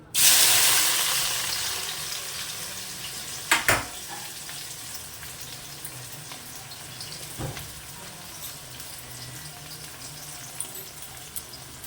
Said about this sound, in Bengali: তেলটা আমার গরম হয়ে গেছে, এবার আমি এর মধ্যে পেঁয়াজটা দিয়ে দিচ্ছি।